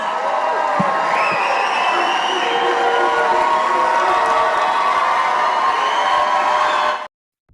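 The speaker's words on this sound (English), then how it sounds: "Look at this crowd." A large crowd at a Turning Point USA event cheers, whoops and applauds loudly and continuously for about seven seconds, a dense wall of voices and clapping that cuts off abruptly.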